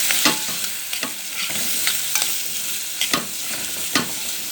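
Onion and garlic sauté in a pan for rice, a steady bright sizzle broken by regular stirring scrapes about once a second, close and fairly loud.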